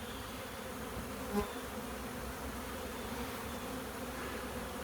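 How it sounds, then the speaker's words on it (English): A dense, steady buzzing of many bees fills the air, continuous and fairly soft, with individual insects passing close now and then. "so that's why I'm in the middle of all these bees"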